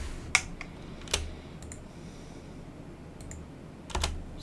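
Java code typed on a computer keyboard: a few sparse, crisp key clicks close to the mic with pauses between them and a small cluster at the end, no talking.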